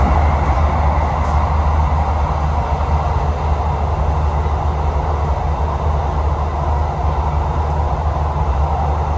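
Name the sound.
KA Lodaya economy train passing through Ijo tunnel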